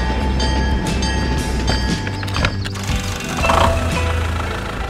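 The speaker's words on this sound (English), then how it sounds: "The train safely passes through the flower cage." A toy train rattles along its track through a flower cage, with busy clicking and clattering, a low rolling rumble and a few sharp knocks, fairly close and steady throughout.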